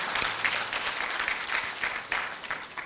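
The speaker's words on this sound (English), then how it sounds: "Can we clap for the First Lady?" An audience applauds the First Lady at the launch of a women's project. The clapping is a steady, moderately loud patter of many hands for about three seconds, with no speech.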